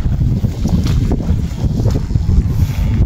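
Wind gusting steadily over an open abandoned fishpond, a dense low rumble of buffeting air filling the whole stretch, loud and close to the microphone, with no talk.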